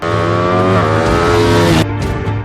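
A Ducati 959 Panigale sport motorcycle runs hard on the fast Buriram racing circuit, its engine a loud sustained high-revving wail that shifts pitch, then briefly drops before pulling again.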